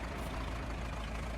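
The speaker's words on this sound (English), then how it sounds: "This is our 3020 feed tractor." Engine of a 3020 feed tractor in Farming Simulator 25, a low steady idling rumble heard close and alone, without talk.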